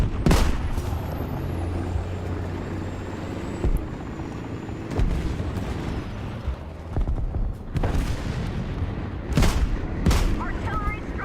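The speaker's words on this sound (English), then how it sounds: "Artillery strike incoming." Artillery strike explosions in the tank battle game War Thunder land as scattered deep booms and sharp blasts, several spaced impacts over a constant mechanical rumble of vehicle engine noise.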